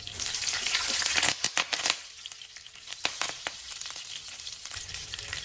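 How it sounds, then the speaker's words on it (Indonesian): Whole spices such as cloves, cardamom, cinnamon, lemongrass and lime leaves sizzle in a pan with ground spice paste, a close, steady frying hiss broken by several sharp scraping stirs with a spatula. "tumis semua bumbunya sampai benar-benar mengering,"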